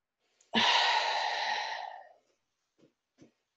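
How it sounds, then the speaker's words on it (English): A single long, deep inhale taken during a calming anger-control stretching exercise, loud and close, easing off over about a second and a half, followed by two faint soft shuffles. "let's just take a deep breath in and stretch"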